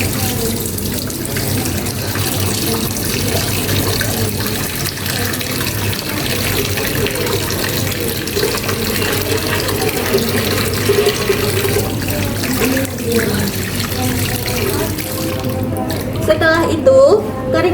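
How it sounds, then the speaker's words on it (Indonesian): Hands being washed under a running tap in a clinical hand-hygiene routine, a steady continuous stream of water splashing into a sink throughout, close and even, with a voice talking over it. "Selanjutnya mencuci tangan dengan 6 langkah efektif."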